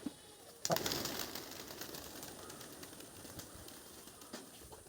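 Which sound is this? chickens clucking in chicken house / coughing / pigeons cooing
pigeons cooing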